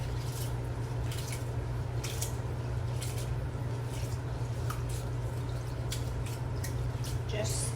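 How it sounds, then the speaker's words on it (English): Rice being rinsed in water in a bowl, soft squishy sloshing and dripping over a steady low hum, close but quiet, with a person talking over it. "the first thing I'm gonna do is I'm gonna rinse my rice."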